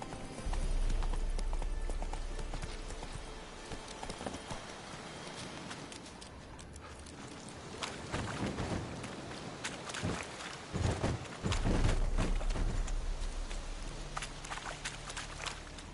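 Roach the horse from The Witcher 3 gallops with steady, loud hoofbeats, clip-clopping in a quick rhythm against a busy game soundscape, with a brief break mid-run before the pounding stride resumes.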